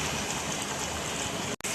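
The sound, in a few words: water boiling with biryani spices for rice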